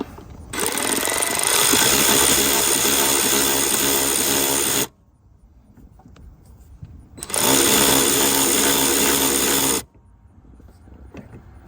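A power tool runs in two long, loud, steady bursts of several seconds each, separated by a quiet pause, while tightening the AC idler pulley on a Honda Civic through a wrench extension.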